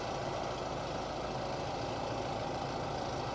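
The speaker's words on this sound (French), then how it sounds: "Le tracteur, donc j'appuie sur A, il s'éteint net. Appuie sur B, il démarre." A Kubota MGX105 tractor engine, started by remote control, idles with a steady, dense rumble that stays loud and unchanging throughout, with no voices.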